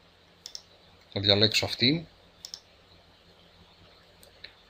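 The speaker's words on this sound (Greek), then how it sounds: "Κάνω κλικ εδώ και διαλέγω φωτογραφίες που έχω" Computer mouse clicks while photos are being chosen for upload on a website builder. A couple of short, sharp clicks come before and after a brief spoken phrase, close and quiet against a faint background hum.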